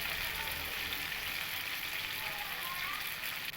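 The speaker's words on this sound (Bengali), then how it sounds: "এই লবণ আর হলুদ গুঁড়ো দিয়ে আমি ওলটাকে খুব ভালো করে ভেজে নেব।" Steady, close sizzling of yam frying in a pan with salt and turmeric powder, a continuous even hiss with no pauses or talking.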